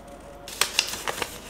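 Scissors snipping a paper circle for a hair bow, a few close, crisp cuts in quick succession after a brief quiet moment.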